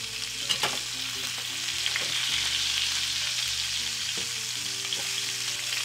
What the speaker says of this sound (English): all I need to do here is just to sear these